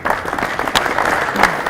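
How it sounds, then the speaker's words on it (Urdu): A studio audience applauds at an interview show, a steady burst of clapping filling the short moment at fairly loud level. "ان کے لیے بھی تالیاں."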